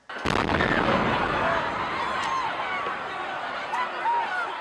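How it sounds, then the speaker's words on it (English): Second bomb explosion a block up crowded Boylston Street at the Boston Marathon: a sudden loud blast followed by sustained rumbling noise and crowd commotion with faint shouts. "another explosion about a block up a crowded Boylston Street"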